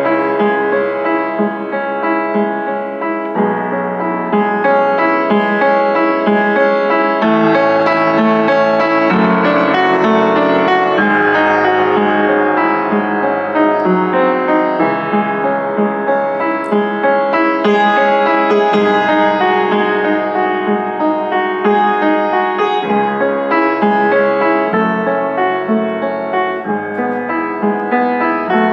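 A classical piece played on a Bentley compact piano, a continuous flowing passage of melody and chords at steady moderate loudness for about half a minute, heard alone without speech.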